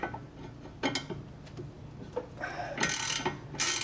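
A ratcheting wrench running a nut down the threaded shaft of an Eibach suspension unit on a Dodge Challenger, giving quick metallic clicks in short irregular bursts, close and moderately loud, ending in a sharper rapid run of clicks.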